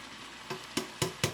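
Chicken wings with cellophane noodles cook in a pan, a low sizzle underneath three or four sharp, evenly spaced scraping or stirring strokes that grow louder toward the end.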